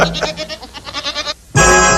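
A goat bleats loudly and close by with a quavering, pulsing tremolo for over a second, then breaks off briefly before another loud, harsh burst.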